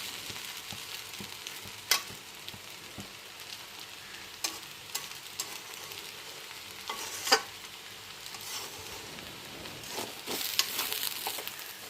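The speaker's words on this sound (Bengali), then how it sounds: "এবার সমস্ত কিছু ভালো করে মিশিয়ে নিলাম" Vegetable chow mein being stirred and mixed in a pan, with scattered scraping clatters of the utensil against the pan over a soft sizzle; a few louder knocks stand out, and no one speaks.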